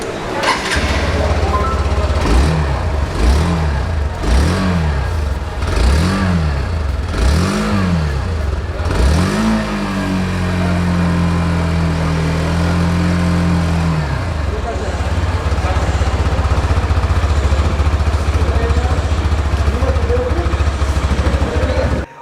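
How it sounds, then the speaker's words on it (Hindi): A Hero Xtreme 160R 160cc motorcycle revving through its exhaust, five sharp throttle blips in a row followed by a longer held rev that drops back to a steady, bassy idle, loud and close throughout. "इसका एग्जॉस्ट साउंड जो है वो भी बहुत अच्छा है"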